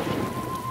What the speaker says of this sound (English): That's raining a lot now.